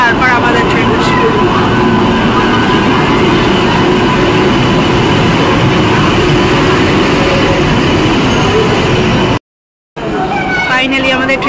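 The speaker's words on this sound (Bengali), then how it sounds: "পুরী নীলাচল এক্সপ্রেস হচ্ছে, এই ট্রেনটা চলে যাবে" A Puri Nilachal Express train passes through a station platform, a loud continuous rumble and roar of rolling carriages that lasts several seconds, broken by a sudden brief gap, and a voice is audible near the end.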